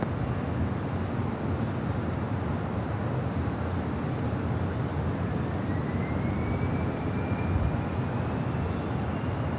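A plane taking off from runway 25 left at Los Angeles International Airport, heard as a steady, loud broadband roar that lasts throughout, with a faint rising whine toward the end.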